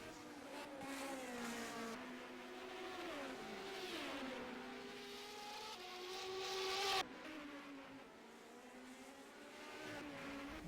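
1978 Formula 1 race cars at Zolder, engines howling and shifting pitch as they pass one after another, loud and fairly close with rising and falling revs throughout.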